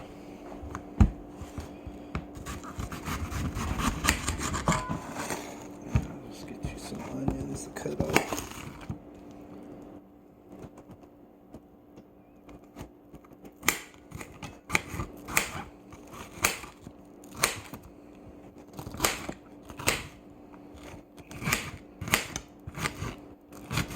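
A knife cutting potatoes into smaller chunks on a board, with quiet scraping and handling at first, then a run of sharp, evenly spaced chopping taps close by.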